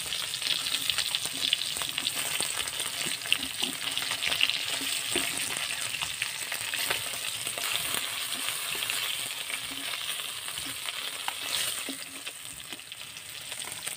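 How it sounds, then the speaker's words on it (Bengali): Pieces of fish frying in hot oil for a katla fish curry, a steady dense sizzle with small crackles and pops, close and continuous with no talk. "মাছগুলো ভাজা হয়ে গেছে"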